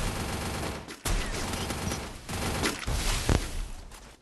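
Rapid gunfire bursts from Free Fire, the battle royale video game, crackling loudly in repeated volleys with a sharp louder shot near the end, no voices over it.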